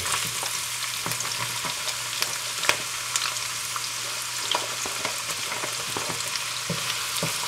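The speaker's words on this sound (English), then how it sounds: "we will let this onion fry into the hot oil" Chopped onion fries in hot oil for a hassar fish curry with eddoes, giving a steady close sizzle with scattered small pops and crackles throughout, no voices present.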